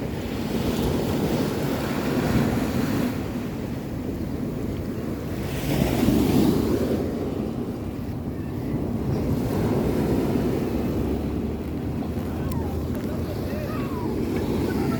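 Rough sea with waves surging and crashing continuously near the shore, strong wind buffeting the microphone, and a louder wash of surf building midway.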